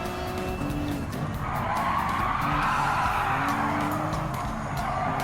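Race car drifting in Gran Turismo 7 at Barcelona, tires skidding and squealing in a long continuous screech over a steady engine roar, loud and close throughout.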